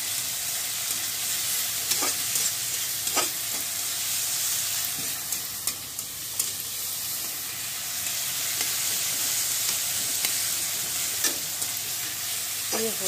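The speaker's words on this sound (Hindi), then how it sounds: "देखिए मैंने भून लिया टमाटर प्याज मिर्चा से" Tomato, onion and chili fry in a pan with a continuous soft sizzle, broken by occasional sharp clicks and scrapes of stirring.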